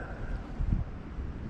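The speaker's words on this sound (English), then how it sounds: "I'm battling the wind." Wind buffeting a microphone while out kayaking on open water, a loud continuous rushing roar with low gusty thumps and no talking.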